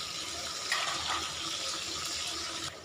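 Catfish frying in hot oil with chilies, giving a close, steady, hissing sizzle that holds evenly for a few seconds and then cuts off, no voices.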